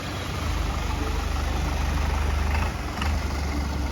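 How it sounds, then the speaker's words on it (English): A long-tail boat's Toyota engine with a long propeller shaft drones steadily at close range on a canal with a low, throbbing hum, dipping briefly before picking up again. "they put like a Toyota motor, and then they have like a long shaft with the propeller on the end"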